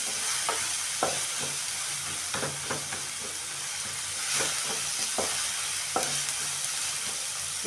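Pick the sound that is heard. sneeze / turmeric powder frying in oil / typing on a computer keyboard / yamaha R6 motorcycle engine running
turmeric powder frying in oil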